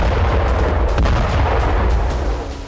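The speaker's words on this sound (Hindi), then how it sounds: "एक साथ कई छोटे छोटे धमाके क्लस्टर बम से ही होते हैं।" Cluster bomb blasts strike an airfield in a dense, continuous roar of overlapping small explosions, loud and sustained without pause.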